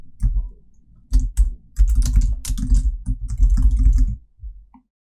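Rapid computer keyboard typing, close and crisp, with clusters of key clicks and short pauses while text is entered in Photoshop, ending in a few final taps.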